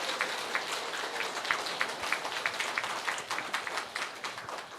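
An audience at a talk-concert gives applause to the panelists; fairly faint, continuous patter of many hands with a few louder individual claps standing out, steady throughout without voices.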